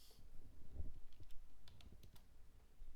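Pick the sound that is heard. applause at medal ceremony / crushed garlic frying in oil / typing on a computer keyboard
typing on a computer keyboard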